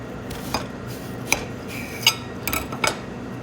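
Kitchen knife slicing through the second half of a potato being cut into fries, giving a few sharp, scattered clicks and taps of blade on board, close and fairly quiet, with no talking.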